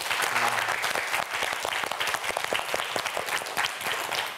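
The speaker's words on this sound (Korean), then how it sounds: "박수 한번 보내주시기 바랍니다" Quiz show studio audience applause, a full, continuous burst of many hands clapping at steady strength for several seconds, with a faint voice underneath at the start.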